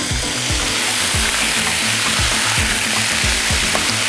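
Onions and peppers fry in oil in a pan with a loud, constant sizzle, while a utensil stirs and scrapes through them in a quick, repeated rhythm.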